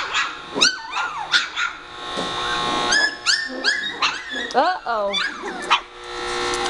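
Several puppies yip, whimper and squeal in rapid, high-pitched bursts at close range, with someone talking softly over them.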